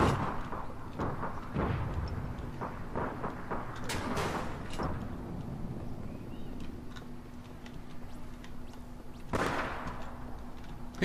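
Video game gunfire from APB Reloaded, a cluster of sharp shots early on and a few later bursts, with a steady low hum underneath.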